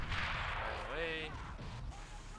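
Gunfire in the game Assault Squad 2, aimed through a building at a Flak 38 gun, comes as a loud booming shot with a rumbling tail, a whining tone rising over it, and faint muffled voices around.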